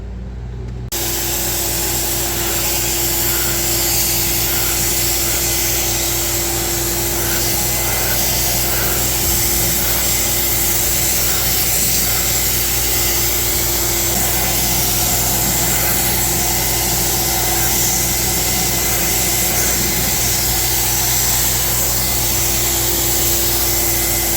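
A DYC sprayer hisses and whirs continuously, close up and steady throughout, while laying a coat of Plasti Dip onto a wheel.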